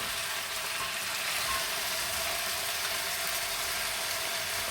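Chopped green peppers and tomatoes go in with browning onions for Mexican beef burritos, giving a continuous close, even sizzle and crackle with no talking over it.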